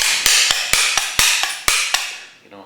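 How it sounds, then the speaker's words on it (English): A knife blade sharpened on a butcher's steel gives a run of sharp metallic scraping strikes, about a dozen quick strokes in an uneven rhythm, close and clear with no talk. "Listen to the edge of the blade going across the steel"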